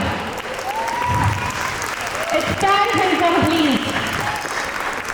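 An audience at a school annual day claps for a school team, steady dense applause throughout while someone speaks briefly over it.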